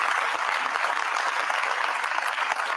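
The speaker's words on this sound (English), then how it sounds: "Let's give him a round of applause." Audience at a speaking event in Schenectady applauds labor leader Mario Salento, a brief, loud, continuous burst of crowd clapping with no talk over it.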